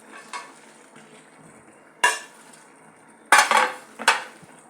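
Okra goes into a pot of boiling lentils with a few sharp metallic clinks and clattering scrapes of a utensil against the pot, spaced irregularly over a quiet simmering background.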